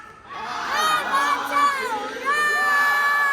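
A large crowd on a Carnival Mardi Gras cruise ship shouts together in a loud, sustained chant of "I want to rock!", many voices blending into one roaring phrase that swells and holds.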